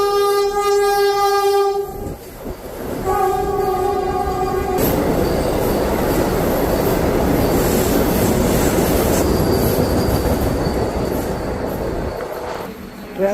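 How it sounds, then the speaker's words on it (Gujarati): A Vande Bharat train passes through Bharuch railway station, opening with a long, loud horn blast, followed by a close, sustained roar of wheels and carriages rushing by with squealing rail noise. "તમે જોઈ શકો છો આ વિડીયોમાં જે વંદે ભારત ટ્રેન જાય છે અત્યારે."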